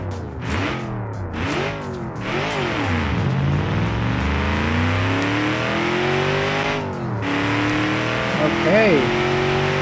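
A big V8 car engine in a BeamNG.Drive drag race climbs loudly through repeated rising revs and quick gear shifts, close and continuous, while someone talks over it.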